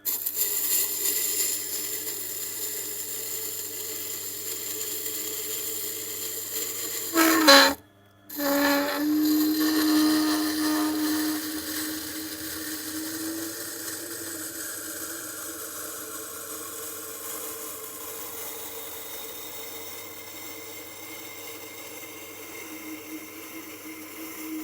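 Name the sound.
Tormek sharpener grinding gigantic upholstery scissors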